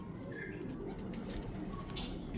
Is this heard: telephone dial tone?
no